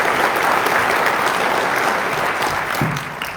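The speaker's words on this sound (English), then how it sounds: "if we can give a round of applause for Michelle Carano" Sustained applause from an audience at a New Mexico State Police gathering, a dense, steady clatter of clapping hands that holds strong before tapering off near the end.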